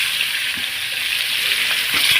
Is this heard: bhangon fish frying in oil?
yes